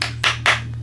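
Three or four quick hand claps from a clapping sound effect, sharp and evenly spaced, loud and close with a low hum underneath.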